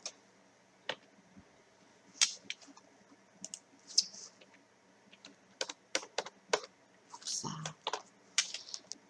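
Computer keyboard keys are pressed for a copy shortcut, producing scattered close clicks and short bursts of tapping with pauses between, alongside faint background noise.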